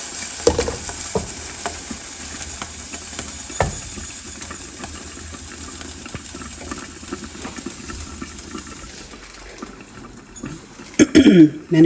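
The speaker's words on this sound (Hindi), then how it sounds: "ये इमली का पल्प है, और अब हम इसमें ये खजूर का पल्प डाल रहे हैं।" Ground date pulp being stirred into tamarind pulp for a sugar-free chutney, with soft, steady scraping and wet mixing sounds, a few sharper knocks near the start and a louder clatter of the spoon at the end.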